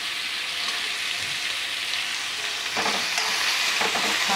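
A dense, even sizzle comes from beans and pumpkin sautéing in a pan for vegetable dal, close and continuous, with a couple of soft stirring scrapes near the end and no voices.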